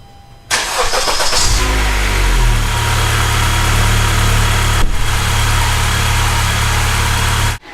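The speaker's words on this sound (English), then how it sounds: "I'm going to start the car real quick" A 2013–2016 Honda Accord engine cranks briefly and catches, then settles into a steady, close idle hum with a slight rumble that runs until it shuts off.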